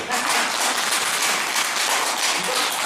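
A dense wash of applause from a crowd at a Buddhist Dharma lecture fills the whole stretch, steady and fairly loud, with no break.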